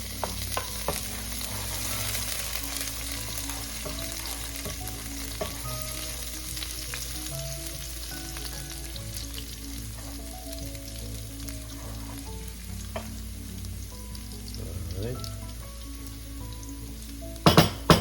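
Garlic sizzles steadily as it is stirred in a frying pan for a squid adobo, with a scraping stir and a few clinks of utensil against pan, ending in sharp metallic knocks.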